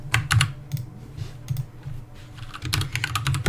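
Close, quick typing on a computer keyboard, bursts of crisp key clicks with brief pauses between runs, no talking.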